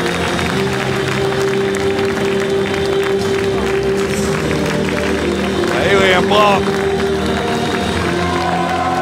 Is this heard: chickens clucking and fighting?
no